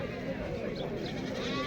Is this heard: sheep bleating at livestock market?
yes